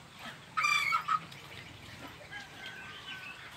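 A white bantam rooster crows once at dawn, a short bright call of about half a second, fairly faint against quiet outdoor ambience.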